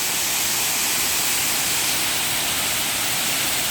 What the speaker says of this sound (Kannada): ಈ ನೀರು ನೋಡಿ ಆ ಕಡೆ ಎಲ್ಲ ಹರಿದೋಗುತ್ತೆ ಇದು ಸಿರಿಮನೆ ಫಾಲ್ಸ್ ಅಂತ